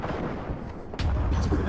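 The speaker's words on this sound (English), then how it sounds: "That's a grenade." A grenade going off in Rising Storm 2: Vietnam, a single sudden booming blast after a stretch of muffled battlefield rumble, followed by lingering low roar.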